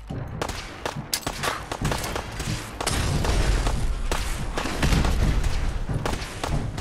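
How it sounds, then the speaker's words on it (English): Repeated gunfire from an enemy shooting in Fallout 4: a dense run of sharp, loud shots and thuds, irregular and overlapping, with a heavier sustained barrage in the second half and no talk. "Now he's shooting at me."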